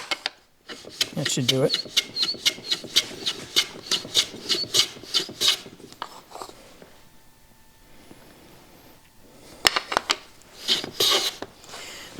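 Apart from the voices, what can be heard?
planing a chamfer on a wooden box edge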